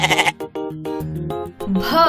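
A goat bleats loudly and close, a few wavering, nasal calls in quick succession filling the short stretch, with no talk over it.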